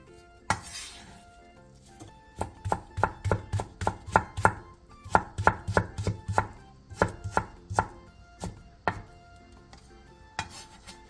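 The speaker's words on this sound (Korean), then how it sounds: "양파 반 개와 당근 내장을 얇게 채 썰어주세요." Half an onion and some carrot are sliced thinly with a knife on a cutting board in brisk, evenly spaced chopping strokes, close and clear, with short pauses between bursts.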